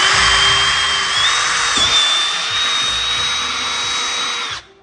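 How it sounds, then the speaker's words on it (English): A power drill bores sensor holes in a car bumper, a steady high-pitched whine held for nearly five seconds with a slight dip midway before cutting off, loud and close with no talking. "so now I need to drill some holes"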